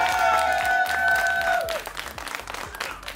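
An audience at a business pitching competition event bursts into dense, loud applause that tapers off over a few seconds, with a sustained musical tone ringing under the first half.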